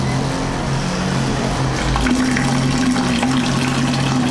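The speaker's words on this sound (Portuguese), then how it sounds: "Aqui a água está saindo pelo filtro." Water flows out steadily through the filter of a cheap irrigation pump, a loud continuous rushing stream over a low steady motor hum, with no talking.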